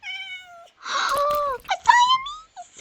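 Siamese cat in the Minecraft video game meowing three times in a row, clear and close, each call a drawn-out, wavering mew.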